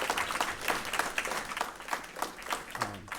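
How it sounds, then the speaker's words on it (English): Audience applause fills a room at a Tennessee middle school gathering, steady dense clapping from many hands sustained throughout, fairly close, with a brief murmur of voices near the end. "Jeff needs a big round of applause for everything."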